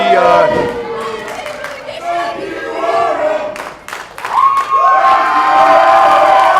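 A crowd at an independent wrestling event cheers and shouts loudly, with voices chanting and yelling, dipping briefly midway before surging again into a sustained roar.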